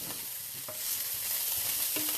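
Croutons fry and crisp in a hot pan, giving a steady broadband sizzle that swells slightly partway through, broken by a few soft stirring scrapes.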